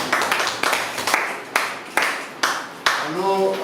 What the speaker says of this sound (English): Thank you very much. Let's clap for you.